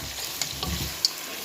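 Seafood with clams, mussels, prawns and squid sautéing in a pan for pasta, a close steady sizzle broken by a few sharp metallic clicks and scrapes of stirring.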